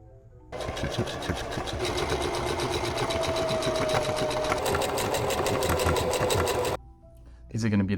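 A sewing machine stitching fabric for a monster cushion, a steady fast mechanical whirr running several seconds before stopping and briefly restarting, close, with a voice speaking over it.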